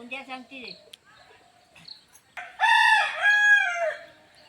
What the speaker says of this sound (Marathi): इथे कोंबडा बघा कुठे आंब्यावरती बसलाय आणि आरवतोय